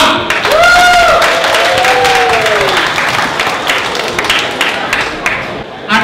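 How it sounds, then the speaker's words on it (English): Applause from an audience at a Kenyan Jamhuri Day celebration held by a Kenyan association in Calgary, a loud, steady crowd clapping lasting several seconds with voices and cheering mixed in. "Give her a clap."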